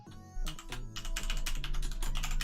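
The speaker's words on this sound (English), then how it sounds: "You have to hear my keyboard ASMR now." Fingers type quickly on a computer keyboard, a dense close-up run of crisp key clacks in rapid irregular rhythm, loud and alone over a low steady hum.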